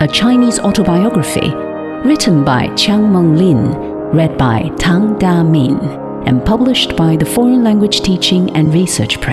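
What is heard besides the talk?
No everyday noises stand out.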